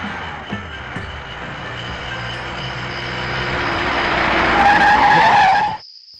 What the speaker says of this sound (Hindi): गाड़ी क्यों रोक दी?